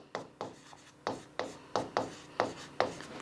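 Chalk or a marker writes on a board in a steady series of about nine short strokes, each a crisp scratch that fades quickly, heard up close with no voice.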